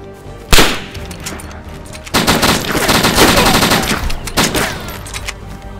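Gunfire in a DayZ firefight: a sharp shot near the start, then sustained bursts of rapid shots from about two seconds on, loud and close, with a few voices under it.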